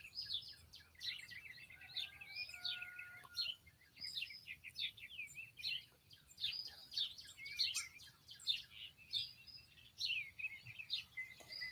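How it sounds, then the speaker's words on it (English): Several birds chirp and tweet continuously outdoors on an early Saturday morning, quick bright trills and calls overlapping at moderate distance with no talking. "Y'all hear my birdies tweeting?"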